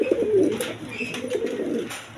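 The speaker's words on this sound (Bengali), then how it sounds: "রাসগোলাটা আকাশি কালার মাদি, একদম বিগ সাইজের দেখার মতো কবুতর" Large sky-blue Danish pigeons cooing in a loft, several soft throaty coos and low burbling calls close by over a couple of seconds, with no speech.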